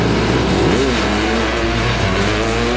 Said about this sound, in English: what you will see now is a crazy acceleration from this little car